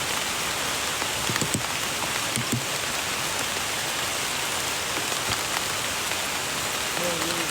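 Steady heavy rain pours down on an outdoor hillside trail at Bukit Bunian, a dense continuous hiss with a few faint thuds and scattered drips rising briefly above it near the end.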